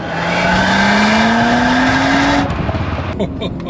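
A loud engine of a tuned 530 hp Audi RS5 revs hard and climbs in pitch as it accelerates close by, then cuts off abruptly, leaving rumbling background noise.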